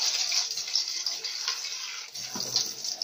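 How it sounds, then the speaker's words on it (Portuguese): Tap water runs into a cooking dish of seasoned rib meat in a home kitchen, a steady close hiss and splash that keeps up throughout, shifting slightly in pitch near the end. "Eu boto um pouquinho de água"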